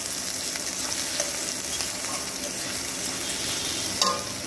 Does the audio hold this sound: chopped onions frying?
yes